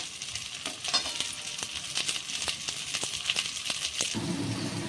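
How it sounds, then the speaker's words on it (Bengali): Pointed gourd (potol) fries in very little oil over a low flame, a soft, even crackling sizzle with faint ticks and pops, close and quiet, no talking. "লো ফ্লেমে ভাজা হবে পটলগুলো, খুব অল্প তেল দিয়ে"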